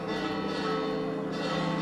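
Church bells pealing during a Holy Week procession in León, Spain, a dense, continuous ringing wash of overlapping tones, loud and steady for the whole short stretch with no voices.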